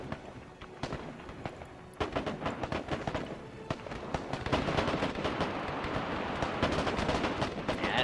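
Faint Arma 3 gunfire crackles in rapid bursts: scattered sharp shots at first, then a denser, sustained exchange of distant firing.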